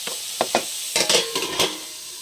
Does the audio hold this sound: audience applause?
no